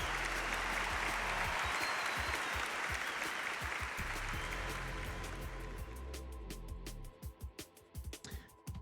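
A crowd gives a big, dense round of applause that holds steady for several seconds, then thins into scattered individual claps before dying away.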